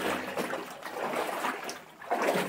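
Water sloshes and splashes in uneven bursts as someone wades through a flooded underground tunnel in Guadalajara, fairly quiet and close with a short pause before the splashing resumes.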